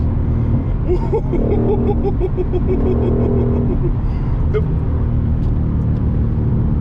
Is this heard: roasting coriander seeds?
no